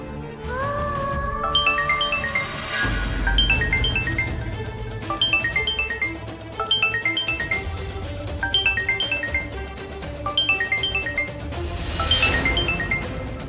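A phone ringing late at night in a Bengali TV drama scene plays a melodic chiming tune that repeats every couple of seconds over bass-heavy background music.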